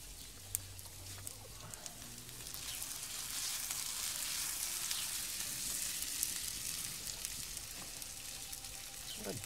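Wood sticks crackle and hiss as they burn in a Lixada V camping stove during an evening cookout, a steady close sizzling bed with scattered small pops and no talk.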